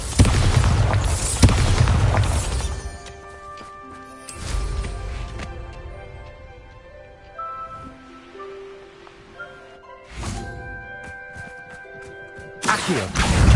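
Bombarda explosion spell cast in the Hogwarts Legacy video game, several heavy booming blasts spaced a few seconds apart, each followed by sustained tonal ringing music-like tones between them.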